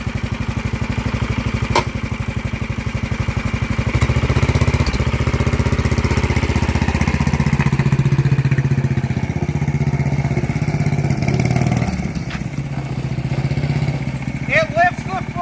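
A Baja MB200 mini bike fitted with a 440cc big block engine runs loud and close, its steady drone rising to a harder rev midway and holding before easing off near the end.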